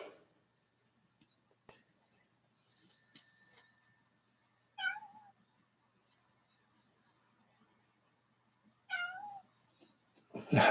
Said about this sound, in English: Let me put the cat back in the other room real quick.